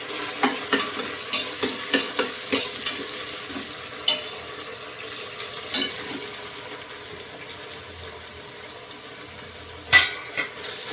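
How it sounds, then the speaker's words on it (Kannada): Mint leaves fry in a pan for a fenugreek-leaf rice dish, giving a soft continuous sizzle punctuated by regular scraping stir strokes of a spatula, close and moderately loud with no talking. "ಈಗ ಪುದೀನ 2 ನಿಮಿಷ ಫ್ರೈ ಆಗಲಿ."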